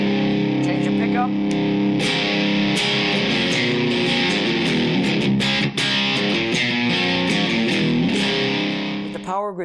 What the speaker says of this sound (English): Power Grid distortion, the character and tone of your guitar is going to be allowed to pass through